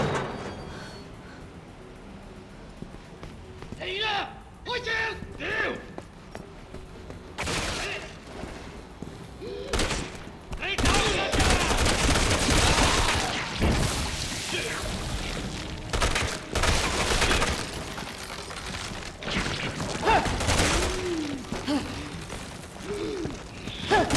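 Gunfire bursts in Resident Evil 6: scattered single shots early give way to dense, loud volleys of rapid shooting and booms, with a voice briefly heard among them.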